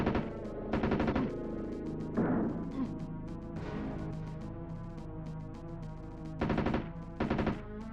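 Gunfire in the SNES game Jurassic Park 2: The Chaos Continues, with repeated short rapid bursts of retro chiptune shots cutting in and out over game music, several clusters spread across the stretch.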